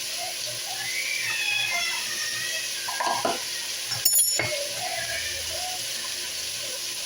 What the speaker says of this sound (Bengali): ভালো করে এটা ভালো করে নাড়াই নেবেন।